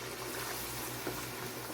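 A stew of kontonmire (cocoyam leaves) with ground melon seeds simmers in a pot, giving a faint, steady bubbling boil over a low continuous hum.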